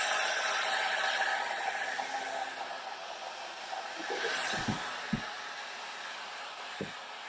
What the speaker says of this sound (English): we blow dry